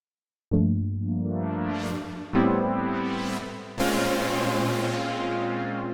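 A sustained synthesizer tone is struck three times, each note swelling brighter as the filter sweeps open, with growing reverb tails and rich harmonics ringing on, loud and alone.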